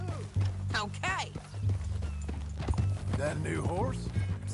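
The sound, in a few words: horse hooves clip-clop, from video game Red Dead Redemption 2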